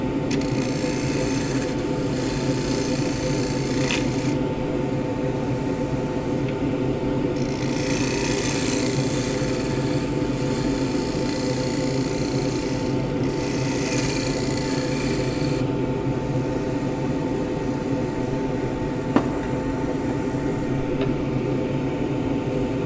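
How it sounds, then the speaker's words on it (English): A big end grain scraper cuts wood spinning on a lathe, giving a steady hum under shifting, hissing scrapes that swell and ease in waves as the tool works, with one sharp click near the end and no speech. "Need my big end grain scraper to get round there."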